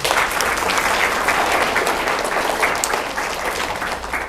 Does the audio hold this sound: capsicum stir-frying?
no